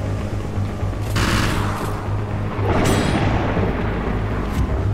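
Rapid gunfire hammers at a tank in the naval combat game Modern Warships, with loud rattling bursts and booming shots over a constant low engine rumble.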